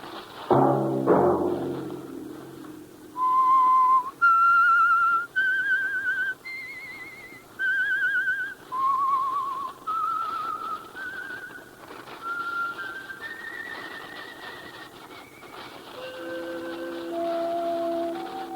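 A clear whistled melody of sustained, sliding notes plays alone, the theme of an old-time radio show, after a brief low tone at the start, the tune ending on a descending phrase.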